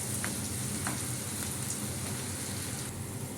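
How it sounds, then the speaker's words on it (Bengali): Food frying and being sautéed in a pan, with a steady broadband sizzle and a few faint clicks of stirring, continuous and close throughout with no talk. "ভালো করে কষানো হোক, ভালো করে ভাজা ভাজা হোক।"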